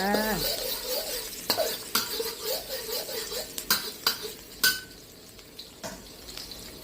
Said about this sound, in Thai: ใส่น้ำมันพืชแล้วก็ใส่กระเทียมลงไปจ้า